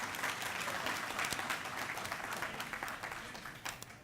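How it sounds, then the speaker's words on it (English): A crowd at an expungement and pardons seminar claps for the council president and Local 22, a dense, steady wash of applause at moderate distance that slowly thins toward the end. "Can I get a round of applause for the Council President and Local 22?"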